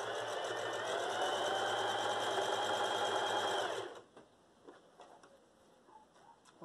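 A sewing machine stitches fabric for a mitred corner, running in a fast, steady whir for about four seconds and then stopping, leaving faint handling noises.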